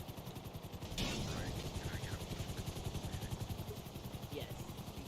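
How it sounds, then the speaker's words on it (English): A helicopter in the video game GTA V thumps with a steady, rapid rotor chop that stays prominent and constant, with a brief sharp burst near the start. "get out of that helicopter"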